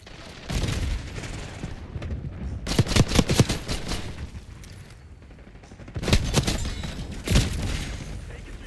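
Semtex grenade blast in Call of Duty Black Ops 6 multiplayer, set among bursts of automatic gunfire and sharp booms that come in several loud clusters with quieter gaps between them.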